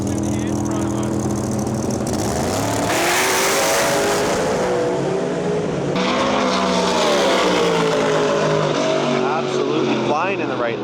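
An outlaw drag race car making a pass at Mission Raceway in Canada, its engine roaring loud and close with a rising, shifting pitch and an abrupt change partway through, while an announcer talks over it.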